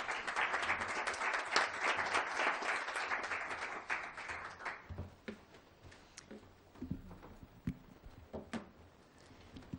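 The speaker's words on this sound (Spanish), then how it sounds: "tengo el placer de presentar a Isabel Ariza, para quien les pido un fuerte aplauso." Audience applause at a book launch, a dense burst of clapping for about five seconds that thins into scattered, sparser claps and fades out.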